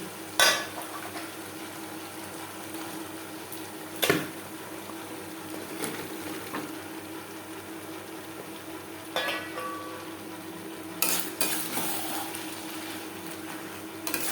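Bhetki fish oil and spices are stirred in a pan, a soft steady sizzle broken by several sharper scraping strokes of a spatula spaced a few seconds apart.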